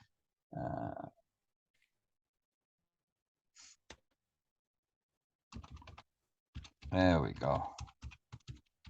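Typing on a computer keyboard, short bursts of quick key clicks separated by pauses, with a person speaking briefly in between.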